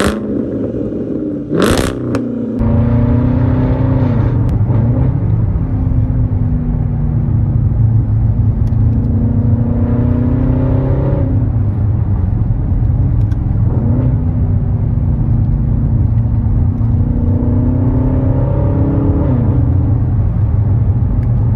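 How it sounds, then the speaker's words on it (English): A Jaguar XJR engine with a straight-through exhaust and back box delete drones and revs loudly and repeatedly, the pitch rising and falling in waves, heard close up. "And it's got straight through exhaust. A back box delete. So... It's loud."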